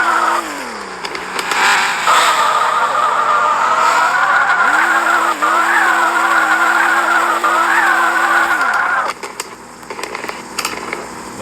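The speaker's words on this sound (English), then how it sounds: "So even when you start driving, you're going to be swerving and drifting." A car drifting and swerving in slide mode in the driving video game Drive X Cars: a loud, steady engine roar with a long tire screech that rises and falls as the car slides, then drops off near the end, no talk.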